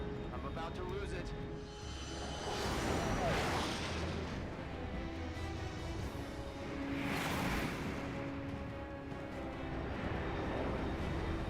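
In Metal Gear Solid Snake Eater, a fast aircraft streaks past at over Mach 3, its roar swelling twice over a steady rumble in a continuous wash of noise.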